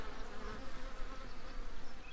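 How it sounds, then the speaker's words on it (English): Buzzing bees swarm a beehive in the PC game Lumberjack's Dynasty, a dense, steady drone that hums continuously and closely for the whole stretch with no voices. "Is there active bees in here?"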